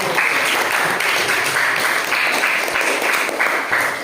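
A classroom of students claps together for four seconds, a dense, even burst of applause at steady loudness with no talking over it.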